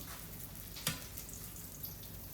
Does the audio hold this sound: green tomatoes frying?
yes